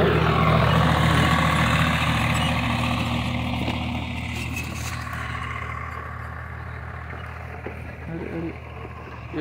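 A tractor engine runs in a farm field during chickpea sowing, a loud steady drone near at first that eases slightly over the following seconds, with some faint background noise.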